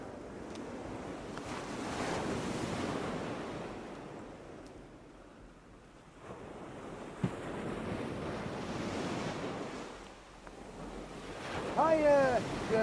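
Sea waves wash and surge near the shore in rolling swells, moderately loud, with gusty wind buffeting and a brief bird-like chirp near the end.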